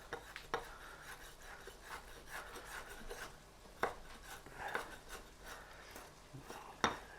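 Food being cut for a low-carb Big Mac salad in a kitchen: a soft scraping, rubbing background broken by a handful of sharp, close knife-on-board knocks at irregular intervals.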